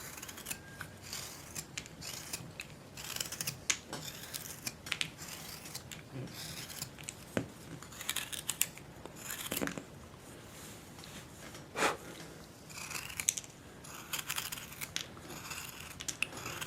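A knife carving chips from a piece of soft wood waxed dark, a steady run of quiet dry scraping and rasping strokes with small crisp snaps of chips breaking free, close up and alone.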